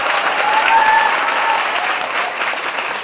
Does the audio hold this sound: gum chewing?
no